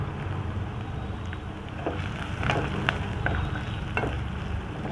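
Garlic and ginger fry with fish in a pan for chilli garlic fish, giving a steady close sizzle with a few sharp stirring scrapes and taps against the pan.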